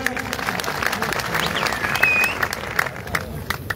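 A protest crowd in Katra claps loudly for speakers, dense sustained applause outdoors with voices and shouts mixed in underneath.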